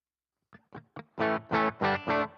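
An electric guitar through the Boss ME-90 in a hard-clipping distortion setting, three short muted picks followed by four loud sustained distorted chords in even rhythm, heard alone.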